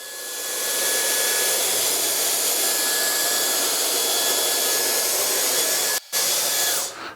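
Hair dryer blowing steadily and loud at close range while a fringe is blow-dried and shaped for volume, a continuous whooshing roar with a brief dip near the end before it cuts off.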